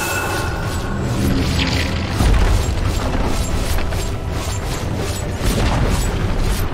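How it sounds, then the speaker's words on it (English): A tower collapsing in a Dota match, heard as a sustained deep rumbling boom with crumbling debris that swells around the middle and stays loud throughout, with no talking. "Dire's top tower has fallen."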